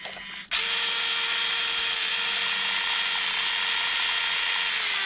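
An SCX24 or Enduro24 RC crawler with a metal gear runs at full throttle, starting abruptly as a loud, steady, high-pitched motor and gear whine that holds close up to the end.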